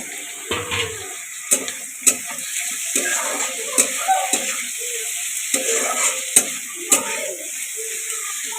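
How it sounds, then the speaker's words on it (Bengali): Chopped tomatoes and cabbage fry in a pan for homemade pasta, a continuous close sizzle broken by repeated clinks and scrapes of a utensil stirring, with a watery hiss throughout. "তো দেখো এখন আমি একটু টমেটোগুলো দিয়ে দেবো।"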